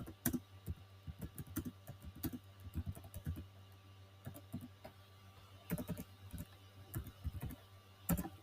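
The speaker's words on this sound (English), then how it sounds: "So for now, I'll just type my name." Typing on a computer keyboard, close and fairly quiet, irregular bursts of key clicks with short pauses between words.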